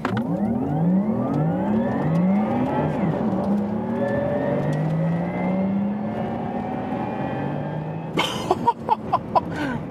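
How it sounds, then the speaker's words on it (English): Porsche Taycan GTS electric car launching uphill on a Mallorca racetrack, its rising electric motor whine sweeping upward through gear-like steps, loud and close, ending with sharp thumps and rattles. "It was a launch control uphill."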